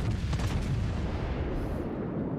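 Heavy battleship guns firing in World of Warships, with the USS Alabama in combat, as a deep booming rumble with a salvo crack early on, fading into low roar.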